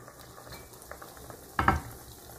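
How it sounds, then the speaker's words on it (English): Fish cutlets frying in a pan over medium heat, with a soft steady sizzle, a few light clicks and a short louder clatter of a utensil against the pan near the end. "Nitaanza kufry hizi za mayai"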